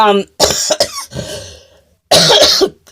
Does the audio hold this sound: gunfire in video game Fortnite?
no